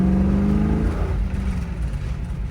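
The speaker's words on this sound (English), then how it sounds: "I just punched it to the floor, spun the tires a little bit." A 1967 Shelby GT500 automatic with its 428 engine accelerating hard from a stop, tires spinning briefly, loud rising engine roar that fades as the car pulls away.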